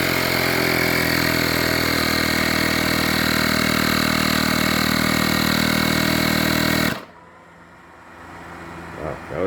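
A QuickJack lift's electric power unit pumps up the lift with a loud, steady motor drone and whine that runs for about seven seconds, then cuts off abruptly, leaving near silence with faint handling noises.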